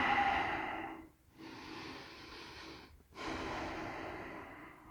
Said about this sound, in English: Let's take a couple breaths here.